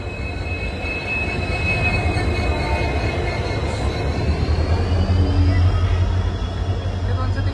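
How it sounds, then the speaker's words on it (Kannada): A train pulls into Gadag junction on a hot day, with a loud steady rumble of wheels and carriages, a faint wheel squeal and a brief horn-like tone, nearby and continuous. "ಫೈನಲಿ ಟ್ರೈನ್ ಬಂತು ಗೈಸ್."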